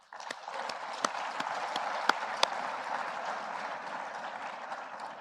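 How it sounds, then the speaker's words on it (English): Audience applause at the Africa Mindset Reset Forum: a steady, dense wash of clapping from a large crowd, fairly distant, holding evenly through the whole stretch with a few sharper individual claps standing out. "Please join me in giving them and all of yourselves a round of applause."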